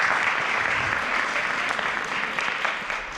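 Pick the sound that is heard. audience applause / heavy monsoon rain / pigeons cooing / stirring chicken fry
audience applause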